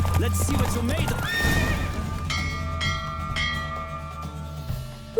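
A horse in The Witcher 3 lets out a loud, clear whinny over clopping hooves, followed by ringing bell-like tones as the hoofbeats fade.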